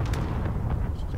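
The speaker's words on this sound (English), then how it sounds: "Mortar strike?" A mortar strike in Modern Warfare 2 lands as a short, heavy blast with a low rumble, loud and close, over a faint voice.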